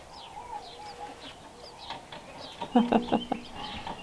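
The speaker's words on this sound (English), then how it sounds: "There's baby birds in here. In this birdhouse right here. I can hear them." Faint high chirps of baby birds inside a birdhouse scattered throughout, then a short burst of louder clucking, cooing bird calls near the end, with no talking.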